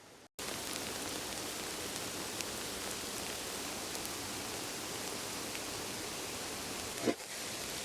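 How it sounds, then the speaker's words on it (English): Hailstones pelt the ground near a waterfall in a dense, steady hiss of countless tiny impacts, constant and fairly loud after an abrupt start. "There's a lot of hailstone right now"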